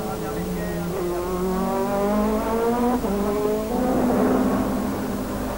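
Procar championship race cars at the Spa-Francorchamps circuit during the Spa Ferrari Days roar past in a sustained engine drone, pitch sliding as they accelerate, with commentary voices underneath.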